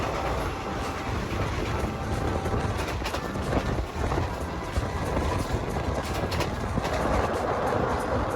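An excursion train rumbles steadily past close by at Map Phra Chan station in Thailand, a broad continuous roar with faint rattling of the cars and no voices.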